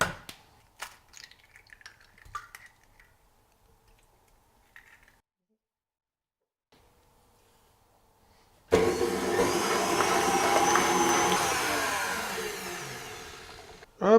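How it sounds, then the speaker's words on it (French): Eggs are whisked with sugar for a lemon cheesecake filling, likely with an electric mixer, starting abruptly after quiet kitchen clatter and running as a steady, loud whirring drone for several seconds. "je vais commencer par mélanger, fouetter même, les œufs avec le sucre"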